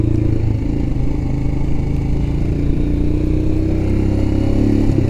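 A Royal Enfield Himalayan motorcycle cruises along Iowa back roads, its engine droning steadily and loudly at a constant pace for several seconds, with no voices.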